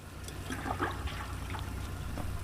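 Water is poured onto rice for biryani, a steady splashing, trickling stream running continuously at close range.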